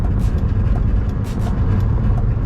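BMW E36 Z3 roadster on the move, a continuous close engine and road rumble with some wind noise and no talk.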